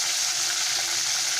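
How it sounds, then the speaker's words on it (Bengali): Pomfret fish frying lightly in oil in a pan, giving a steady, even sizzle that holds throughout with no pauses and no talking. "খুব হালকা করে ভেজে নিচ্ছি, বেশি কড়া করে ভাজবো না"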